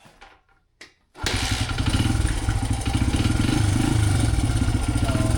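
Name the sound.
Honda dirt bike engine starting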